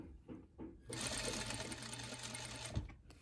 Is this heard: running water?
no